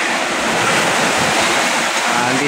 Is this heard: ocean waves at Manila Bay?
yes